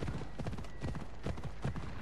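Hooves of a horse in the video game Assassin's Creed Odyssey clip-clop in a quick, even rhythm, with a soft low rumble of the ground underneath.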